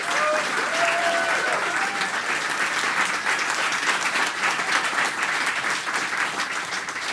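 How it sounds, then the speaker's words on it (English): Sustained audience applause from a live crowd at a monthly public talk show, steady clapping filling the whole stretch without a break. "Please give them a round of applause."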